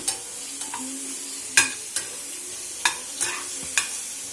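Turmeric and spices sizzling in hot oil for rasam, a soft continuous fry broken by several sharp scraping and clinking stirs of a utensil against the pan, close and without talk.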